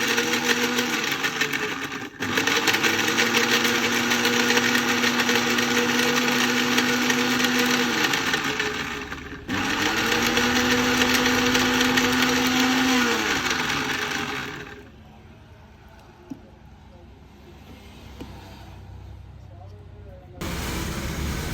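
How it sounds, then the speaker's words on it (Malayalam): A mixer grinder runs at full whine crushing lemon in two long bursts separated by a brief pause, then cuts out to a quiet room before a short restart; loud, steady motor drone close by. "ഇതുപോലെ മിക്സിയിലേക്ക് വെച്ചിട്ട് ചതച്ചെടുക്കുക"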